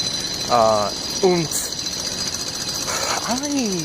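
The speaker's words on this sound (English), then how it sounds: "I am going to listen to Jackhammers the entire fucking time." Jackhammers work nearby in Arizona around 8:15 at night, giving a steady rattling, buzzing clatter under a voice that talks briefly over it.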